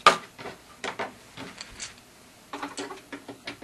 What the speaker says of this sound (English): I've got a small Tupperware container. I'm just going to throw the screws right in there.